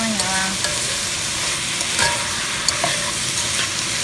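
Chicken sizzles steadily in a hot pan with cheesy marinara sauce, a dense continuous frying hiss with occasional stirring scrapes and clicks, close and loud with no talking.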